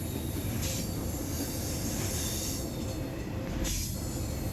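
A Norfolk Southern intermodal freight train led by locomotive 4750 rumbles past steadily, with wheels squealing and a continuous heavy roar of rail cars rolling by close up.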